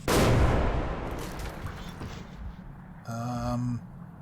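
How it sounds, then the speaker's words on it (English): A grenade goes off in the Metro 2033 video game, one loud close blast at the start that decays into a rumbling tail, followed by a brief tonal game sound. "hope that nobody heard that grenade outside of here"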